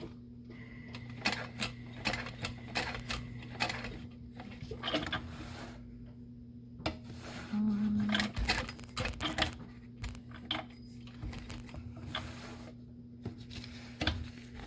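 A domestic sewing machine stitches a handbag in quick bursts of rapid mechanical clatter, stopping and starting with short pauses between runs, close and fairly quiet.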